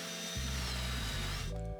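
A power drill with a Forstner bit bores a hinge cup recess into a solid wood cabinet door, a steady loud whirring grind that shifts pitch as the bit cuts, ending abruptly.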